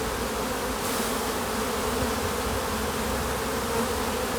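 Honeybees from an opened beehive fill the air with a dense, continuous buzzing hum, close and steady throughout with no talk.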